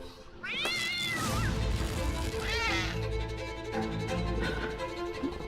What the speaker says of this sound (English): There's a weird cat outside.